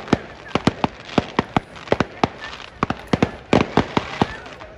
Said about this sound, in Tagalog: Ganda ng fireworks in the lake.